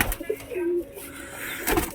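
Pigeons inside their coop give soft, low coos, two short calls and a longer drawn-out one, close by over faint rustling and room noise.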